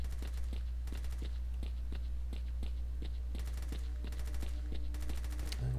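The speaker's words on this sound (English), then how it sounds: "Gunfire over here." Bursts of automatic gunfire and single shots from the video game STALKER Shadows Addon crackle repeatedly over a steady low game rumble, fairly distant and in uneven volleys.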